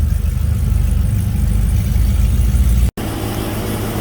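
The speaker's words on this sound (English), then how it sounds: "Here she goes, up on the rollers." A Cadillac CTS-V with a stock engine and a bigger supercharger pulley runs up on dyno rollers, a loud steady low engine drone with a brief dropout near the end.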